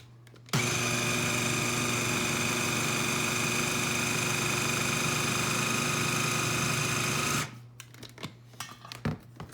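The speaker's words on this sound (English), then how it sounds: "Hopefully I can get my blender to work." An electric blender whirs loudly and steadily for about seven seconds while mixing sourdough banana bread batter, a constant motor drone that starts abruptly and cuts off, followed by scattered clinks and handling noises.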